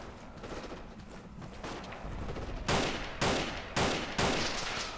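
Rifle shots crack from behind the listener in Forgotten Hope 2, a few distinct reports in quick succession over a low rumble of battlefield ambience, fairly near and sharp, with no talking.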